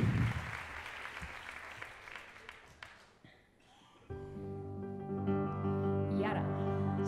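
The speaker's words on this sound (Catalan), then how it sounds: "Aplaudiment per ells." Theatre gala audience applauding at a grand final, a broad wash of clapping for a few seconds that fades, then music with sustained tones comes in.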